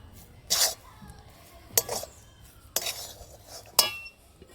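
A cooked banana blossom set down onto a metal plate, giving four sharp metallic clinks spaced about a second apart, close and clear over a quiet background.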